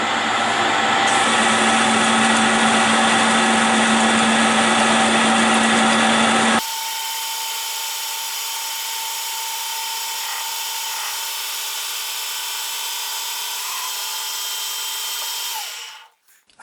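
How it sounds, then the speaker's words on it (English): A lathe motor strains under load while cutting steel pins, giving a loud steady whine and machining noise that drops to a quieter sustained hum after several seconds, then cuts off near the end. "I can hear the motor of the lathe is really working hard"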